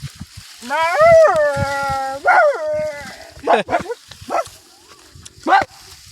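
A new pet dog yips and whines in drawn-out rising howls, followed by several short sharp barks, close and fairly loud, with quiet pauses between.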